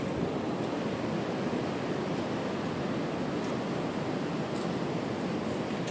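Ocean surf on Malvan's Gaywadi beach rolls in as a continuous broadband wash, a soft, steady roar of breaking waves heard alone without any talk.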